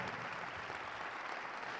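A church congregation claps in a brief, dense burst of sustained applause, an even crowd roar of hands with no clear talk.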